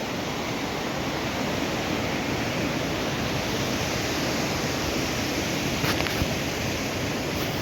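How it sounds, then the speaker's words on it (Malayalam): Steady, dense rushing of a river below fills the whole stretch near the Alma Arasan waterfall, Almaty, Kazakhstan, a constant broadband roar like a fast river churning nearby, with no voices. "നേരത്തെ കണ്ട പുഴ തന്നെ പൊട്ടിക്കൊണ്ടിരിക്കുകയാണ്"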